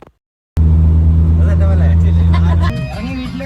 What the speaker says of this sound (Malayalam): ഞങ്ങൾ ഷാജിയുടെ വണ്ടിയിൽ ഞങ്ങൾ സേനാപതിക്ക് പോവുകയാണ്